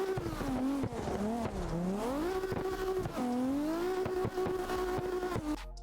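A CarX Drift Racing car with a 2JZ engine revving up and down in sweeping pitch changes, with sharp clicks and gear shifts, loud and close throughout.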